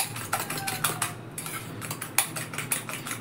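Eggs with onion and salt being beaten for an egg paratha, a quick run of light clicking taps of a utensil against a bowl, close and alone.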